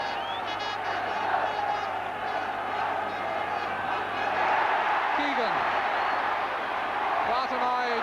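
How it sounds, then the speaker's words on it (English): A football crowd at a European Cup quarter-final roars as a steady, dense wash of noise from the stands, with a commentator talking over it throughout. "Crowd really warming to the sway and the cut and thrust of this European Cup quarter-final."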